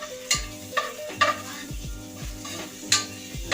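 Garlic and onion sizzle in a hot pan as a spatula scrapes and stirs, with a steady fry under several sharp, close clinks and scrapes at irregular intervals.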